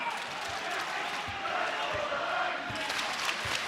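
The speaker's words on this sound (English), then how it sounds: "with this crowd as loud as they've been all night long" Crowd noise fills a college basketball arena, a steady loud roar of cheering under a commentator's talk, with a few dull thumps scattered through.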